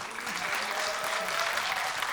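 Audience applause at a traditional Korean nongak storytelling event, a steady dense wash of many hands clapping throughout, fairly soft and even, with no talk over it.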